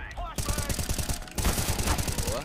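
Rapid bursts of automatic gunfire from the video game CS:GO, rattling in close, dense volleys with a short gap partway through, loud and with no talking.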